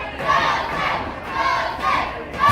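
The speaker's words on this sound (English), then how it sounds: "Joseph's definitely got a cheering section here in Placer County." Crowd cheering and shouting at a live wrestling show in Placer County, a loud, continuous roar that rises and falls in waves with bursts of yelling, filling the whole moment without a break.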